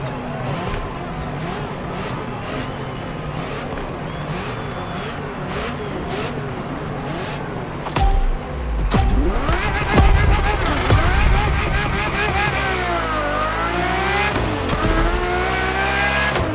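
Ferrari supercar driving in The Crew Motorfest, its engine revving steadily and loudly, then rising through sharp gear changes and high-pitched acceleration, with tire noise and engine tones sweeping up and down.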